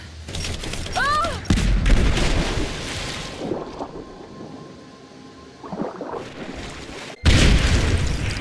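A loud explosion in Rise of the Tomb Raider booms with deep rumbling bursts, the biggest blast landing abruptly late on, surrounded by roaring wind and scattered heavy impacts.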